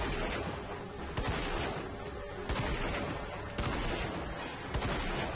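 Gunfire in the video game Rage, a steady loud rattle of shots with sharper bursts recurring roughly every second, dense and unbroken throughout.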